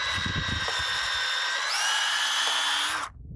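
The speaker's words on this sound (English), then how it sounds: "Just drill one more hole." A power drill whines steadily as it bores a tap hole into a maple tree, running continuously for about three seconds with a slight pitch shift midway before cutting off abruptly.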